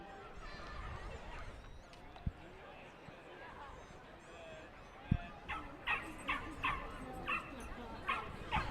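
Wiener dogs, corgis and basset hounds bark and yip in a rapid run of sharp calls during a dog race at Canterbury Park, over crowd murmur and a commentator talking.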